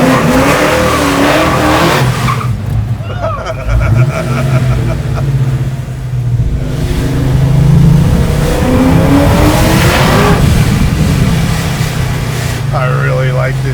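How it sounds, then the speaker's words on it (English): A 1965 Chevy Chevelle accelerates hard with wheel spin, its loud engine revving up in rising sweeps with tire squeal, close and powerful, and voices talking underneath. "Seems like when you get wheel spin, it just stays dead nuts straight, the car goes pretty straight."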